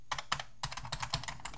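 Typing on the Electronika MS7007 keyboard of a MAGIC-06 ZX Spectrum clone: rapid, close clacking keystrokes in quick irregular bursts, played alone and crisp.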